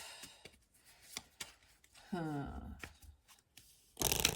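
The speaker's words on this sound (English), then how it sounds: "Like when I'm shuffling it, if it's kind of floppy" Tarot cards being shuffled by hand in a series of soft flicks and riffles, followed by a longer riffle with a brief bridge-like flutter, and a louder shuffle burst at the end; faint talk occurs in between.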